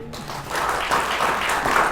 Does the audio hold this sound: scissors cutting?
no